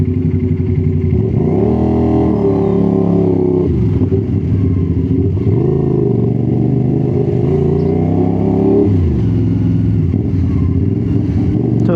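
A CFMOTO 450 SR-S motorcycle fitted with an SC Project exhaust rumbles loud and close on a ride through traffic, its engine note rising and falling through several revs and gear changes, no talking.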